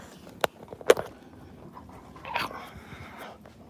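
Two dogs wrestle playfully indoors, with a couple of sharp yelps or snaps early on, then softer scuffling, panting and growly rustling at close range, fairly quiet overall.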